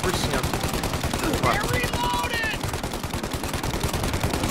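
Rapid, continuous automatic gunfire rattles throughout, loud and dense, with faint voices and game sounds mixed underneath, in Mafia: Definitive Edition.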